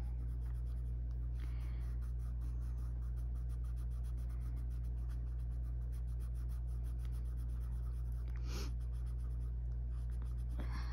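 Colored pencil scratching steadily across paper while coloring a piece, a soft continuous scraping with small strokes, close and alone under a low steady hum.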